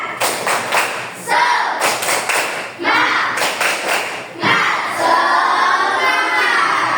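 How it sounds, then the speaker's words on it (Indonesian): A class of students performs a rhythmic spirit clap in a classroom, with several loud bursts of group clapping in a steady pattern separated by brief pauses, close and energetic. "Tepuk semangat."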